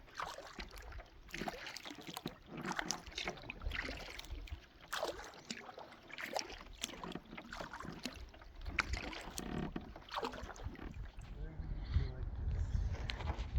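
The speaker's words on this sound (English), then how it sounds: "We can keep paddling up." A canoe is paddled upriver between Axton Landing and Raquette Falls, with faint rhythmic paddle strokes, splashes and water trickling along the hull throughout, mixed with quiet talk.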